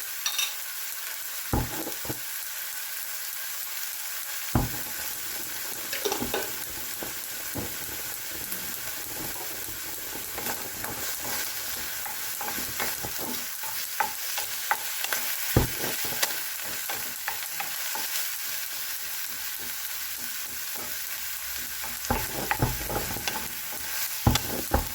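Fried garlic tumbles into a pot of onions, steady sizzling frying with scraping stir strokes and occasional clinks, close and continuous, for a minced beef sopas.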